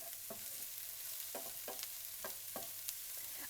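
Peppers sautéing in a hot pan give a quiet, steady sizzle, punctuated by a few soft stirring scrapes and clicks, with no talking.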